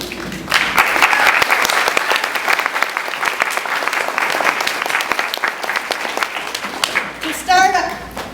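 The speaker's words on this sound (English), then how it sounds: "give them a big round of applause" An audience at an outdoor patriotic program bursts into a big round of applause for the opening act, dense clapping swelling in after a brief pause and holding steady, with a few cheers and a short vocal burst near the end.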